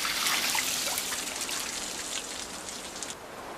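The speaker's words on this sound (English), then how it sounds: "ice farmers repeatedly douse specially designed wood racks with water" Water is doused repeatedly over specially designed wooden racks outdoors in the cold to grow ice, a soft patter and trickle of drops and splashes, fairly quiet and steady, with no voices.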